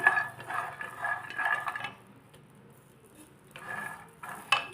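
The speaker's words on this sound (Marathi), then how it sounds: "तर आपण प्रथमे ना वाटाणे थोडे भाजून घेऊया." Green peas dry-roasting in a pan over a high gas flame, with bursts of metallic scraping and clinking as a spoon stirs them, then a quieter pause before more stirring.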